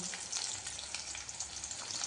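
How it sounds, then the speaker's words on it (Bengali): Steady, crackling sizzle of katla fish frying in hot oil, a dense hiss with small pops, continuous throughout. "মাছটা এখানে ভাজা হচ্ছে"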